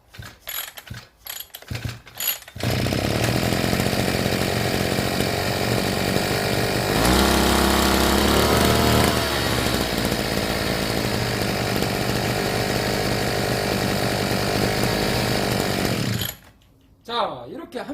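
A Mitsubishi TB43 brush cutter's two-stroke engine, just repaired, fires up after a few short pull-start bursts and then runs steadily and loudly for about fourteen seconds before cutting off, with a brief voice near the start.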